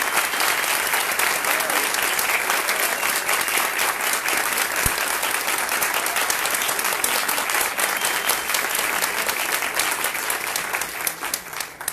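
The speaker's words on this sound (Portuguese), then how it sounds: "eu peço uma salva de palmas para a Aurea Martins" An audience gives sustained, dense applause for a singer at an honorary doctorate ceremony, loud and steady for the whole stretch and easing slightly at the end.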